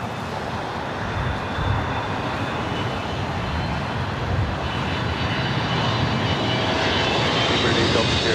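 A Lufthansa Boeing 747 on the north side at Los Angeles airport, its jet engines giving a continuous, dense roar that builds slowly and stays steady across the clip.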